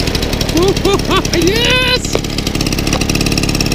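A VAP 632 moped engine cranks and catches into a steady buzzing idle, with a man exclaiming in French and whistle-like tones briefly sounding over the motor at the start.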